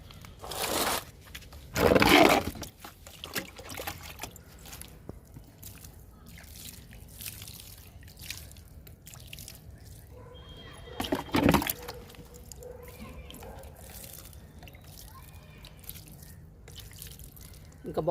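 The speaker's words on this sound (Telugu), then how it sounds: "నాటాం కదండి, కొంచెం వాటర్ ఇచ్చేద్దాము." Water poured over freshly planted mint cuttings and seeds in a home garden, arriving as two short, loud splashing bursts separated by a long stretch of quiet background.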